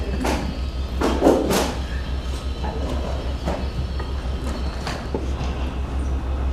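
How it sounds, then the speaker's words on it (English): The Amtrak Coast Starlight passenger train, northbound to Seattle, rolls past with a steady rumble and rhythmic clunks, with several sharp metallic knocks and hisses rising out of the continuous noise. "This is the Coast Starlight that's passing through on its way to Seattle."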